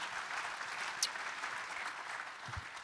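Steady applause from a large audience at a political summit, a dense continuous clatter of clapping filling the hall throughout.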